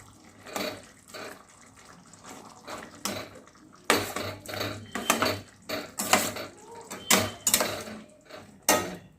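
Hilsa fish stirred with mustard paste and curd in a pan, a spatula scraping and clanking against the metal in irregular strokes with wet squelching, close and moderately loud.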